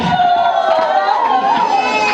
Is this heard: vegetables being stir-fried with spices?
no